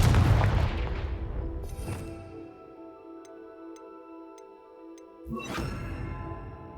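Confringo fire spell blasts from Hogwarts Legacy erupt as two heavy booming bursts with whooshing tails, one at the start and another near the end, separated by a quieter stretch of tonal ringing and faint ticking.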